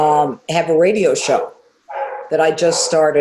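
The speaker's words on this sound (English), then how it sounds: "I apologize about the dogs" Dogs barking inside a home, loud yips and barks mixed in with someone talking over them.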